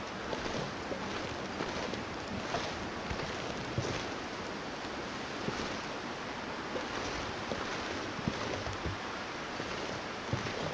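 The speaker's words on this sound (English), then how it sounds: "Looks like it's going to be suddenly quite cold and windy." Cold wind in The Long Dark on Interloper difficulty roars as a steady, hissing rush with faint gusty swells, continuous and alone without any voice.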